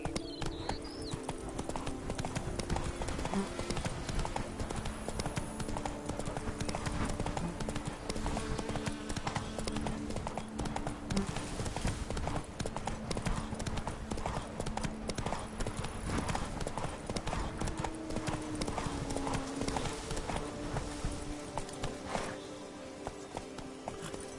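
A horse trots steadily in Witcher 3, hoof clops repeating in a quick even rhythm close by, layered over game ambience and music, with a faint voice in the background.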